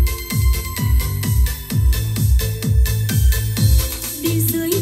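A used Pro 3231FA loudspeaker plays music with deep, strong mid-bass: a steady run of heavy, booming thumps about twice a second, loud and close, with no talking.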